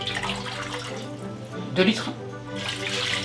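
Tap water running into a pot for a bain-marie while making hollandaise for eggs Benedict, a steady close splashing flow that continues under a man's speech.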